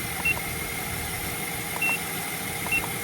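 A car engine idles steadily with a low, even hum, and a faint electronic beep from a battery analyzer tester chirps briefly three times over it.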